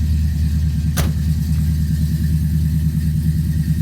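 A Chevy pickup with dual exhausts and a bored-out engine idles steadily from a cold start with the choke on, a low rumbling drone broken by one brief sharp click near the start.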